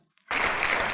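Audience applause after a live song at an evening concert debut, bursting in suddenly after a near-silent moment and continuing as steady, dense clapping to the end.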